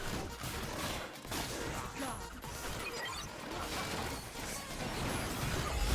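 A bomb goes off in the fighting game ARMS amid a dense barrage of crashes and rapid impacts, loud and continuous, with game action clattering throughout.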